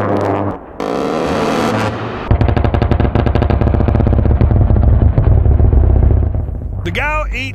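A GAU-8 Avenger rotary cannon, the 30 mm Gatling gun of the A-10 Warthog, lets out a loud, sustained buzzing roar of rapid fire lasting several seconds, preceded by other noise and trailing into a whooshing tail.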